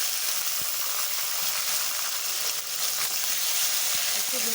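Tomato and green chili frying in a pan for a Bengali Tangra fish curry, a steady close, dense sizzle running the whole time with a few soft stirring knocks and no talk.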